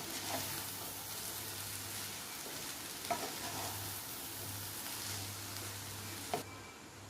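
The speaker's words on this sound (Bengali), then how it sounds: "সবজিগুলোর সঙ্গে চাউমিনটা ভালো করে মিশিয়ে নেওয়া হলো।" Boiled egg chow mein noodles and vegetables sizzle steadily in a hot pan, with a few sharp scrapes and clinks of a spatula as they are tossed and mixed.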